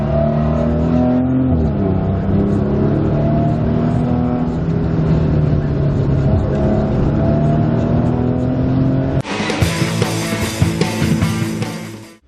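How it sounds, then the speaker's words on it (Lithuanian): A car engine hums steadily, then blips and revs sharply as it slows, loud and close inside the vehicle. "Vyksta pergazavimas."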